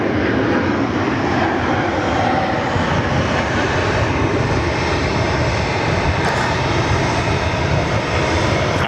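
An airliner takes off at Sydney Airport, its engines producing a continuous, dense roar that stays loud and even from start to finish.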